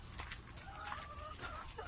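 Backyard chickens cluck and murmur softly while pecking at food scraps, with short repeated calls over quiet ambient background and no speech.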